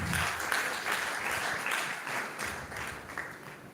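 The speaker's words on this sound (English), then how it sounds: "Let's appreciate Professor Esther F. Thompson and Professor Jose with a better round of applause" A round of applause for two professors at an academic session on research proposal writing, steady dense clapping from a seated audience lasting throughout, moderately loud and fairly close.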